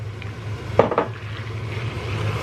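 Flour tipped into melted butter in a pan, with a couple of quick metallic clinks and scrapes of a spoon against the pan over a soft sizzle, close by and brief.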